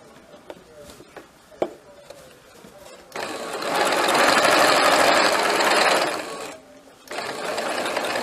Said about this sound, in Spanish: Tenemos un lado ya cosido, vamos a coser el otro lado.